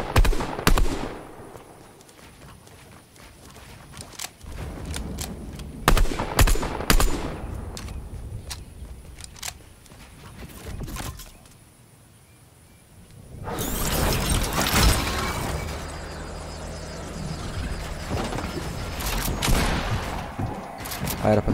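Bursts of rapid gunfire from a first-person shooter video game, with sharp volleys in the first half followed by a louder, denser stretch of shooting and chaotic noise near the end.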